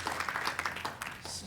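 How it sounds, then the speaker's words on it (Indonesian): A church congregation at a Sunday service claps for the praise and worship team, a brief patter of applause mixed with a speaking voice and faint hum. "Saudara tidak keberatan kasih tepuk tangan untuk tim Praise and Worship."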